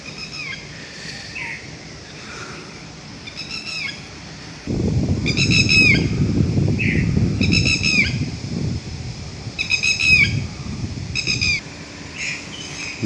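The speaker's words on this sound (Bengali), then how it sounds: "খুব সুন্দর একটা পাখির ডাক শুনতেছি" Birds call repeatedly in a jackfruit orchard, rising chirps and squawks, some fowl-like, at a moderate distance. Partway through, a low broadband rumble of wind or handling noise sits underneath the calls.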